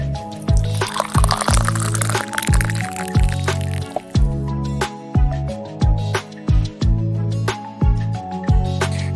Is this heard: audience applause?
no